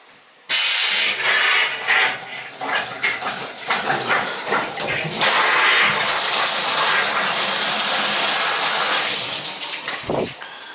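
Water gushes steadily and loudly through a winterized house's plumbing as the lines are flushed of antifreeze after the supply is turned back on, a continuous hiss-like rush lasting nearly the whole stretch before cutting off near the end.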